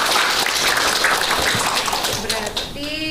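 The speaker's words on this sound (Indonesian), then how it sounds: "Tepuk tangan dong untuk kelas PEGA." A school class of students claps together in a dense burst of applause indoors, fading toward the end as a voice starts.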